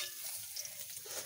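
Pangas fish frying in hot oil, a faint continuous sizzle with small crackling spatters, heard up close with no voices.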